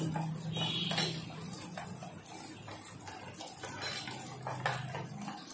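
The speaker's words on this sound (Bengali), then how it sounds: "ভালো করে মিশিয়ে নেব।" A spoon clinks and scrapes around a bowl while boiled cow's milk is stirred into a spice mixture for a steamed pointed-gourd dish, with steady, close clattering and knocks throughout.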